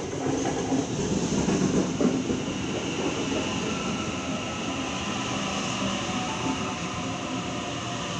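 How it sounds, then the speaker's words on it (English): A Sydney train, the Hornsby service, pulls into platform 2 at Killara station with a loud, continuous rolling rumble and wheel noise that fills the whole stretch without letup. "Hornsby service A21 arriving into platform 2."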